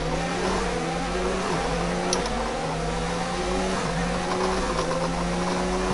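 F1 2019 race car engine at the German Grand Prix, a loud steady high-pitched howl whose pitch climbs and then drops sharply at a few upshifts, running continuously with no talk.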